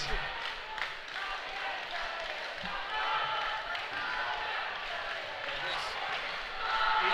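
Crowd noise at a dodgeball tournament court during a European championship finals day, a steady wash of cheering and clapping held at moderate distance for several seconds, with commentary voices mixed in.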